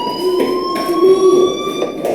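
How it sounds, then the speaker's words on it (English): Electronic fire alarm ringing in the video game Life Is Strange, a loud continuous buzzing tone with steady pitch and slight pulsing, close and alone for a couple of seconds. "do you hear that fire alarm? That means you should be outside."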